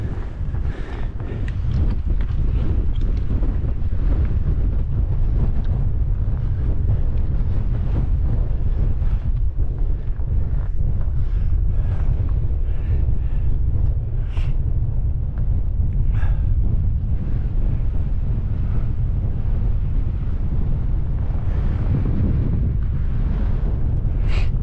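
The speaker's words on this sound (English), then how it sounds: "it's windy, man. It's windy as can be." Strong wind at a campsite in the Lake District buffets the microphone continuously, a loud low roar with gusty rumbling throughout and no speech.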